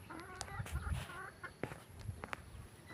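Chickens cluck and chatter around a new village house, several birds making short repeated calls at close to moderate distance over a quiet background, with no talking.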